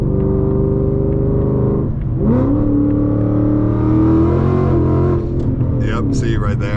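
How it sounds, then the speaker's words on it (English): An 800 whp Mustang makes a loud, sustained engine drone through a low-RPM third-gear pull with the tires slipping, the pitch rising midway, heard from inside the car during a night drive. "That was like a lowish RPM third gear pull, and I absolutely slipped."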